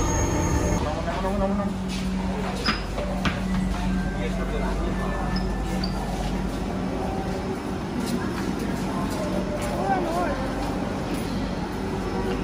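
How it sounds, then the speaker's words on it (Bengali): Dhaka metro rail ride heading toward Motijheel: a steady roar of the train carriage with rumbling wheels and occasional faint squeals, and people talking over it throughout. "এবার আমরা ব্যাকওয়ার্ড মেট্রো রেলে যাচ্ছি"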